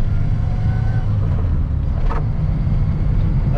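A 1986 Peugeot 205 1.3 SR on the move, a steady low engine drone and road rumble filling the cabin throughout, with a brief swell of mechanical noise midway.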